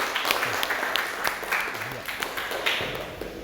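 Scattered clapping from students in a classroom after a multimeter lesson, a light, uneven patter of hands with voices murmuring beneath.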